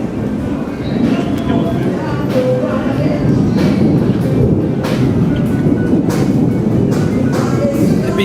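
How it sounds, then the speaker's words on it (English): A train passes in New Orleans near Decatur Street, its steady low rumble and rail noise filling the whole stretch as a continuous loud wash, with faint outdoor voices around it. "there's a train coming"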